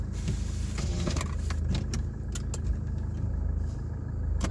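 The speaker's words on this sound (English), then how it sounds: "driving from the parking place" A car in Lithuania pulling away from a parking place, a steady low engine hum with faint clicks and small knocks, close and continuous for a few seconds.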